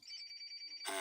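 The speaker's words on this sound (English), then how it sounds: "Can you hear the phones ringing?" Telephones ringing inside a hunting video game, a steady pulsing electronic ring repeating rapidly for most of the moment before a louder burst of broadband noise cuts in at the end.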